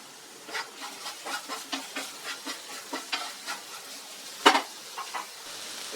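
Potatoes for a Tamil-style potato fry crackle in oil while being stirred in a pan, giving a rhythmic series of scraping strokes over a soft sizzle, with one sharp clank midway.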